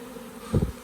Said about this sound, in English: that's 10 frames of bees inside the box